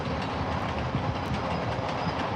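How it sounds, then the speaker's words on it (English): A train rumbles past on tracks very close by, a loud steady roar with rhythmic clickety-clack of wheels filling the whole stretch with no voices. "I did not know there would be a train going right through here, so we might have to pause."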